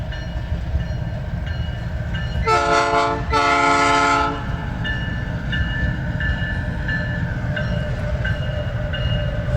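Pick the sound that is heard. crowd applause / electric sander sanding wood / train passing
train passing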